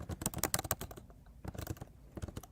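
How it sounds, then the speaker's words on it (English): Fingers type on a computer keyboard during a live stream, bursts of rapid, close clicking keystrokes with a short pause in the middle, no talk over them. "Is my typing better?"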